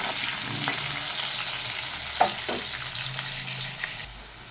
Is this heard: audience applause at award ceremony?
no